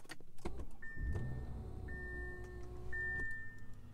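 A 2021 Bentley Flying Spur starts up indoors with a low engine rumble, while the rotating dashboard panel whirs and hums with steady motor tones and clicks, close and moderately quiet.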